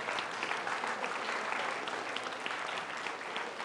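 Lecture audience clapping for volunteers after a mental math demonstration, a continuous, fairly even patter of many hands applauding, moderately close and with no talking over it.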